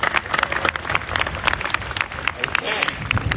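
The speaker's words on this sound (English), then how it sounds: "Let's give all of these charities a round of applause." Audience applause for local charities at a Utah holiday giving event, a dense wash of many hands clapping steadily throughout with crowd noise and some voices mixed in.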